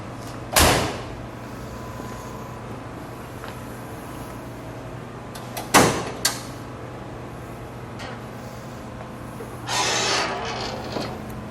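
A hood being opened on a 1969 Plymouth Sport Satellite convertible with a 383 engine: sharp mechanical clunks and a latch pop near 0.5 and 5.8 seconds, then a softer rattle of metal, with a steady hum underneath.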